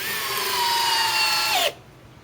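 A Flex FX1231 compact hammer drill on a 3.5 stacked lithium battery drives a 5-inch LedgerLok screw, giving a loud, steady high whine whose pitch sags slightly under load before cutting off abruptly near the end.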